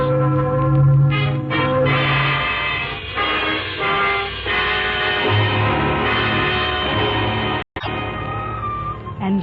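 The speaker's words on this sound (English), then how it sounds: "Those are wedding bells, darling." Church wedding bells ring out loudly in a full, overlapping peal, sustained and resonant, with brief breaks in the ringing.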